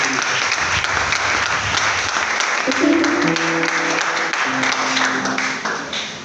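A church congregation applauds the Lord Jesus with sustained, dense clapping that fills the room throughout, as a low organ or keyboard chord joins partway through.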